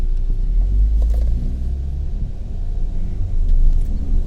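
A 2016 Ford EcoSport Titanium with a 1.5 Ti-VCT engine and automatic gearbox pulls away in drive, giving a loud, steady low engine and road rumble heard from inside the car.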